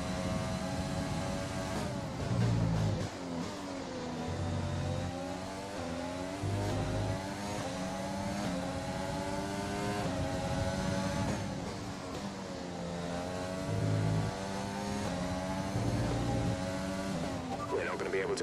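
Red Bull Formula 1 car engine in the F1 2020 racing game at the Austrian Grand Prix, a loud continuous high-revving whine that rises and falls with repeated upshifts and downshifts throughout, with a voice speaking over it.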